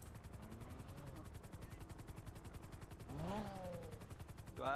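Rapid gunfire in a video game rattles on steadily as a regular mechanical pulse under the mix, with a louder swell and brief tonal effects near the end; speech is faintly present.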